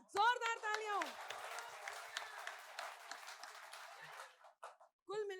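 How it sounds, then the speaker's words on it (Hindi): Applause from an audience at a Hindi poetry event bursts out just after someone speaks, with dense clapping and cheering filling several seconds before it thins out and her voice returns. "जोरदार तालियां हो"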